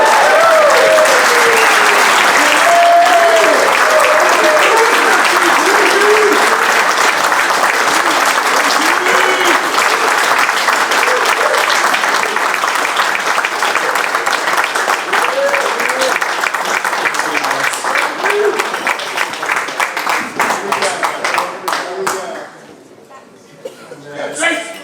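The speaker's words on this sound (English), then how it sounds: "please give a round of applause to congratulate Jay-Z Hollywood for his great honor" A hall of fame induction crowd applauds loudly and steadily for a lacrosse inductee, with scattered chuckles and voices mixed in; the clapping thins and fades out near the end.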